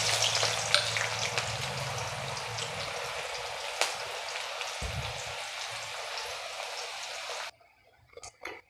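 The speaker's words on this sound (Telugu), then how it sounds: "నూనె కాగింది, కాగిన తర్వాత ఇంకా పచ్చిమిర్చి, ఉల్లిగడ్డ ఇవి ఎలా వేసేది." Green chillies and onions dropped into hot oil for a Telugu fish curry, a loud close spattering sizzle with a few stirring knocks that cuts off abruptly near the end, leaving faint clinks.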